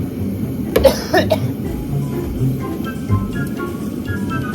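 A few short, harsh coughs in quick succession near the start, then a low background hum with faint clinks.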